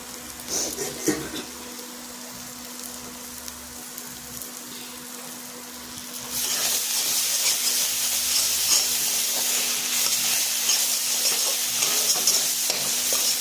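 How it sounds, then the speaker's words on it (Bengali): Spice masala with cumin and coriander powder being sautéed for a rohu fish kalia, first faint stirring and scraping, then a louder steady sizzle and hiss from the pan that continues to the end. "ভালো মতন কষাতে হবে।"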